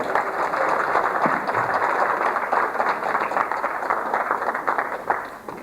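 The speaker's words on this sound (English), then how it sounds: "Let's give a very special person another round of applause." An audience at a birthday tribute dinner gives a sustained round of applause, dense and even clapping from many people filling the room, holding steady before thinning slightly at the end.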